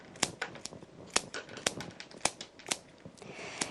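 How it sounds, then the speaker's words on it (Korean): Florist scissors snip diagonally through flower stems while a cone-shaped bouquet is trimmed, giving a quick series of crisp, sharp cuts in an irregular rhythm, close and clear. "여러분은 이 가위 자르는 소리가 어떻습니까?"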